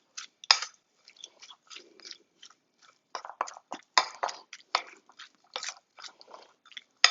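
Crisp chicken skins and bacon crisps crunch and crackle close up in a run of irregular sharp bursts, some louder and denser, with brief quiet gaps between them.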